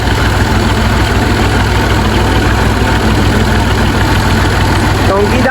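A tractor engine idles at a steady low rumble, loud and continuous throughout, with a faint voice briefly near the end.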